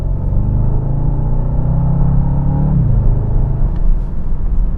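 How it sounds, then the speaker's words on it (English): A Bentley Continental GTC V8 convertible pulls away with a deep, throaty exhaust rumble that swells steadily, then drops in pitch as it eases off, loud and close with no talking. "You have a nice throaty exhaust note coming from this V8."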